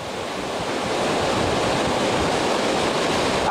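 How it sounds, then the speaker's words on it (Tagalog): Sea waves surging onto the shore of the Babuyan Channel during a typhoon landfall at Sta. Ana, Cagayan, a steady, loud roar of surf blended with wind buffeting the microphone, continuous throughout with no voices. "ito yung pinaka harap ng dagat. Itong dagat na ito, part pa rin to ng Babuyan Channel"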